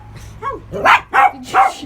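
A pet dog barking indoors: a short whimpering yip followed by three loud, sharp barks in quick succession, close by with no talking over them.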